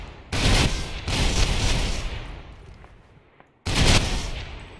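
A 6P41 light machine gun from the Bodark weapons pack in the shooter Ghost Recon Phantoms fires two long sustained bursts, loud and close, separated by a brief lull with a decaying echo.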